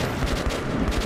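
Rapid gunfire in the video game Metro 2033 Redux, a quick burst of closely spaced shots rattling loudly and continuously for about a second.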